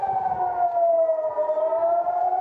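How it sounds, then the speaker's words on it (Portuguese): An air raid alert siren sounding during an Iranian missile attack, a single steady wailing tone that dips slightly in pitch, fairly loud and alone. "Estão ouvindo as sirenes aí."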